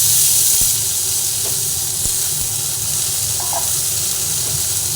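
Chopped tomato and ground spices fry together in a pan over a low gas flame for dal, making a loud, steady sizzle that hisses on without a break and with no voices.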